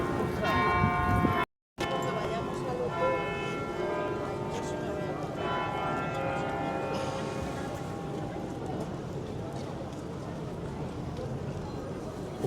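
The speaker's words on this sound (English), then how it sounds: "That's just the bells, and then it's just chimed once because I think it's just turned 1 o'clock." Church bells in Paris ring out in a long, resonant series of strikes, the tones layering and decaying over several seconds while a person talks underneath.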